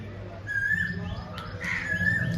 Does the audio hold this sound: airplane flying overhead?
no